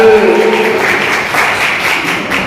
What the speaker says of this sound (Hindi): अब आपकी तालियां चाहता हूं।